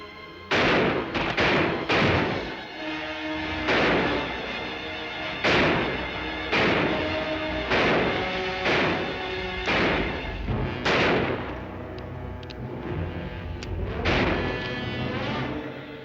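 Gunfire in a 1955 western film shootout rings out in loud, repeated booming shots with echoing decay, spaced irregularly over a steady background of action-scene noise.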